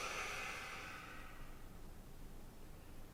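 During a yoga session in bed, a person exhales in one long, airy breath out, close and soft, strongest at first and fading over about a second into quiet room noise.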